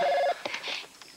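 A telephone rings in a home with a short, warbling electronic trill that lasts about a third of a second. Faint room sounds follow it, and no one speaks.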